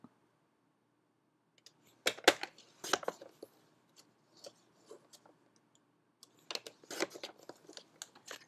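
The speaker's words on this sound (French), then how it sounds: "Je vais les couper tout de suite pour centrer correctement mon papier." Scissors cut through card paper in a quiet room, with two short clusters of crisp snips and small clicks separated by near silence, close and faint.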